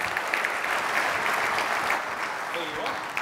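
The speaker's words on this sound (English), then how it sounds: "Your applause," Sustained audience applause at a keynote presentation as a speaker is welcomed to the stage, steady dense clapping filling the room with a voice briefly audible near the end.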